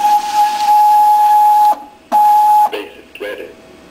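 A Basic D V3 braille embosser answers a form feed key press with a loud, sustained electronic beep that cuts off, then a second shorter beep, followed by faint clicks and brief murmured voice-like sounds.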